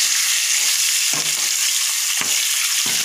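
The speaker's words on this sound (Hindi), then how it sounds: "अब मैं इसमें तेल में ये डाल के पनीर और प्याज डाल के थोड़ी देर" Paneer and onion stir-fry in oil with dried red chillies in a kadai, a loud continuous sizzling hiss with three heavier stirring scrapes spaced through it.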